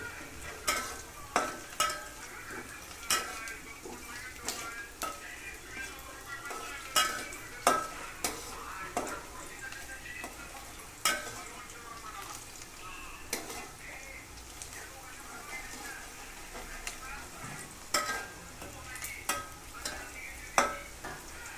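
Onions fry in a pan for a village-style mutton curry while a spoon stirs them, giving repeated sharp scraping knocks over a soft, continuous sizzle, close and clear with no talking.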